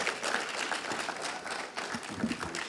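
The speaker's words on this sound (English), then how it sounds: "Let's give a round of applause to Brother Derek Muhammad." Audience at a community forum breaks into steady applause, a dense wash of clapping hands that holds at an even level throughout, with a few voices murmuring faintly underneath.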